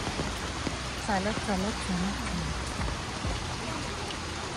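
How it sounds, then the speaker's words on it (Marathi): Heavy rain falls steadily outdoors during a walk along a rural road toward a hilltop Ganapati temple at Anjarle, with a stream running alongside. The rain is a constant, close, even hiss throughout, and someone talks briefly over it. "आणि आता चालत चालू ऑलमोस्ट 1 किलोमीटरचा रस्ता आहे आणि खूप पाऊस आहे बघा"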